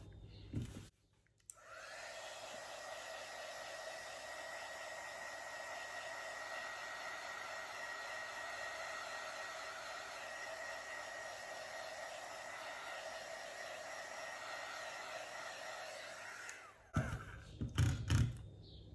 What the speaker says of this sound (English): Now I'll hit it with my heat gun to try and bring some of the cells through a bit better.